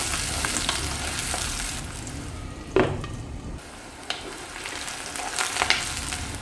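Green chillies, onion and fennel seeds sautéing in a pan, a continuous close sizzle broken by a sharp scrape of stirring and a few lighter taps of the spatula.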